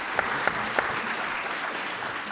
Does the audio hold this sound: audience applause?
yes